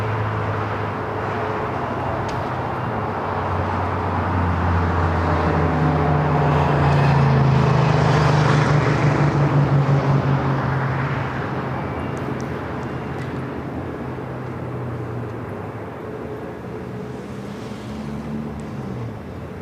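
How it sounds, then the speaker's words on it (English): A Starlux airliner arrives on the north side of Los Angeles LAX airport, a low jet roar swelling to a peak midway and then fading, with wind noise throughout and no clear talking. "That's Starlux, the added afternoon flight arriving there on the north side."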